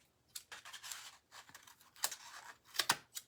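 Scissors snip through string wound for a craft project, a handful of sharp, crisp cuts with short pauses between, close and quiet with no talk.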